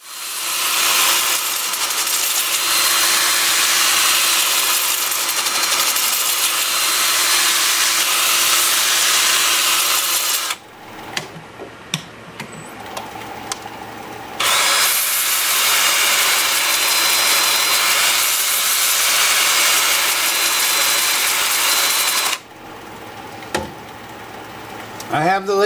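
Maple crotch bowl being sanded on a lathe at 350 RPM with 80 through 400 grit: a steady, loud broadband hiss of abrasive on spinning wood, broken by two quieter pauses with small knocks and handling sounds before the sanding resumes.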